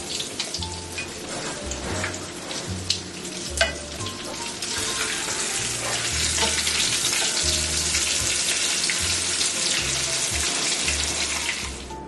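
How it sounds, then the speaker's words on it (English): Red snapper frying in a pan, a continuous close crackling sizzle with occasional pops and low rumbling underneath, no voices. "So I'm going to allow this to fry for a few minutes"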